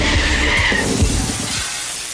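Car tires skid and screech into a crash as a sound effect, a loud harsh squeal over rumbling noise that fades out after about two seconds.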